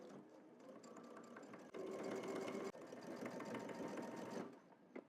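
A sewing machine stitches the pocket bag of a double-breasted jacket, backstitching at a slash corner: a close, steady rapid whir that grows louder and faster midway, breaks off for an instant, then runs on before stopping near the end.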